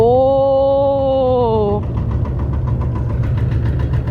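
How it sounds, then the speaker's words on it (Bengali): A motor boat engine drones steadily on a river at Sariakandi in Bogura, with a brief tonal whine at the start giving way to a rough, close, continuous rumble. "এখন নদীতে নৌকায় ভ্রমণ করছে"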